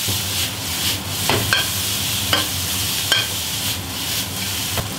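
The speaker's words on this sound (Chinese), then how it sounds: "翻炒大约3-5分钟吧。" Beef stir-fried in a wok with Pixian doubanjiang for braised beef brisket: a constant loud sizzle broken by a few spatula scrapes about once a second, close up, no voices.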